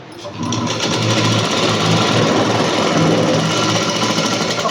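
Sewing machine running steadily close up, stitching a straight line along a blouse hook strip, a continuous loud mechanical whir with no pauses.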